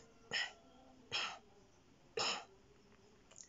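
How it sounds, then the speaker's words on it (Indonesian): Three short, soft throat-clearing bursts spaced about a second apart, close and quiet against a hushed room, with a fainter fourth at the end. "gunakan teknik berdeham, tapi bukan berdeham dengan keras"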